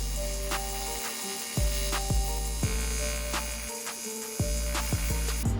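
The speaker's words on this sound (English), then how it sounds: "I definitely need to practice my aluminum welding because it is not good." Aluminum is welded on a custom turbo intake for a rat rod Porsche: a steady, loud electrical buzz cuts out twice in short pauses, with sharp clicks and taps scattered through.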